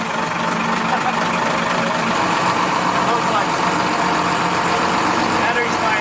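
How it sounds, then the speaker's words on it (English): A tiny home bus's diesel engine runs at a steady idle, a continuous low rumble with a rough mechanical texture that holds throughout, with voices speaking over it. "So the engine clearly started."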